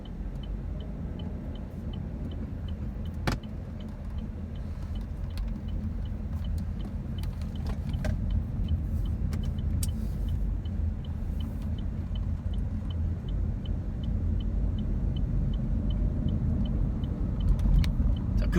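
A Chevrolet Trax crossover drives after a transmission oil change, its engine and road noise forming a low, steady rumble from inside the cabin, with a few faint clicks and knocks over it.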